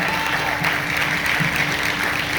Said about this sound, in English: So another round of applause for Jamal.